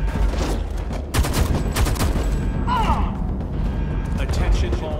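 Light machine gun fire in the Homefront: The Revolution video game, loud dense bursts of shots packed together over a busy combat mix throughout.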